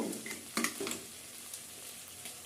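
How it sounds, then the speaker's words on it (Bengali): Onions and chilies frying in oil and being stirred in a pan give off a soft, fairly faint sizzle, with a few brief scraping stir strokes near the start. "এরপর দিয়ে দেবো পেঁয়াজ, মরিচ, তারপর ভালো করে নাড়াচাড়া করে নেব।"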